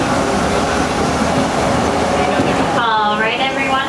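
Walt Disney World Railroad train rolling along with a loud, steady rumble and rattle, then a recorded voice announcement begins over the running noise.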